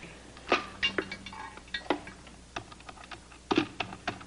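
A telephone is dialed by hand, a close, irregular run of sharp plastic button clicks and taps spread over several seconds, heard alone without any talk.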